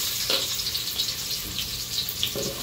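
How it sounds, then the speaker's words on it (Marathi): Finely chopped onion frying in hot oil in a pot with bay leaf, for a spicy chicken rassa: a steady, close hiss of sizzling with small bursts and crackles throughout, no voices. "आता हा बारीक चिरलेला कांदा टाकून घेते"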